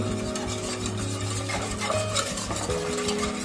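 Avocado pulp for a pudding is stirred in a bowl, giving a close, steady soft scraping and squelching that runs without pause for a few seconds.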